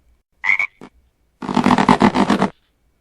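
A frog gives a short croak and a brief second grunt, then a longer, rough, pulsing croak after a pause, close and fairly loud with no talk.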